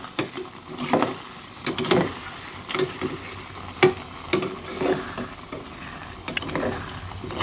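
An omelette sizzling in hot oil in a pot, with intermittent scraping and stirring of a utensil against the pot.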